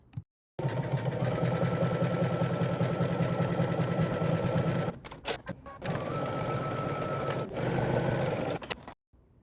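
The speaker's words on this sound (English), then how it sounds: "now head to the sewing machine. We're going to stitch using 5/8 of an inch seam allowance" Domestic sewing machine stitching a 5/8-inch seam allowance on a summer top, running in a steady close whirring hum for about four seconds, pausing briefly, then running again before stopping.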